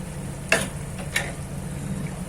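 Boiled potatoes sautéed in mustard oil in a pan, a soft steady sizzle beneath two distinct scraping stir strokes a little over half a second apart, close and moderately loud.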